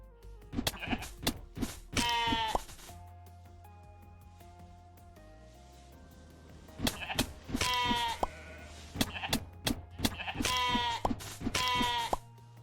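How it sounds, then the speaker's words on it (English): Sheep bleat repeatedly in the top-down survival game Necesse, several loud wavering calls in bursts separated by a quieter stretch with soft game tones, and no talk over them. "Come here, stupid sheeps."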